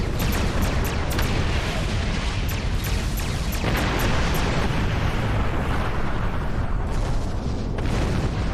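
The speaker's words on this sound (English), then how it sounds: "Oh, that was an explosion, wasn't it?" Loud, dense roaring blasts and rumbling booms from a Star Trek Online space battle fill the mix continuously, with sharp crackling bursts layered through the first half.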